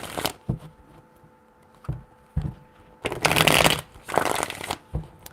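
Tarot cards being shuffled by hand in close, crisp bursts: quick riffling rustles and slaps separated by short pauses, with a couple of longer, louder flurries and no talk.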